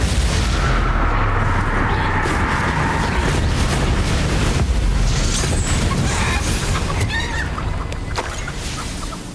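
In Hogwarts Legacy gameplay, spell blasts boom and rumble in a dense, loud barrage, heavy explosive bursts rolling over one another and fading slightly toward the end.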